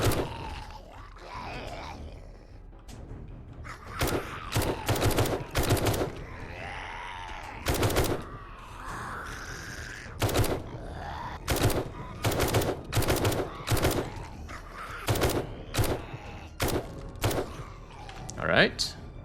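Gunfire in a zombie-survival game set in Raccoon City Police Department and Umbrella labs: loud, sharp shots crack out in quick bursts and single reports across the clip, mixed with grunts and a talking voice.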